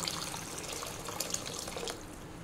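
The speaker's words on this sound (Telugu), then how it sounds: "ఒక 2 కప్పుల వాటర్ పోసాను." About two cups of water are poured into a pan of spiced butter egg masala curry, making a faint, steady splashing trickle of liquid for a couple of seconds, with no voices.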